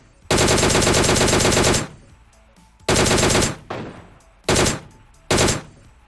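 Sustained bursts of DP-28 light machine gun fire in PUBG Lite, one long burst of about a second and a half followed by three shorter, loud bursts separated by brief pauses.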